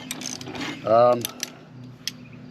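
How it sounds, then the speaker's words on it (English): Lawn mower crankshaft turned over by hand, giving a short ratcheting mechanical whir with a few scattered clicks and clunks, close and fairly loud, with no voices. "make sure there's a crankshaft spinning on the other side"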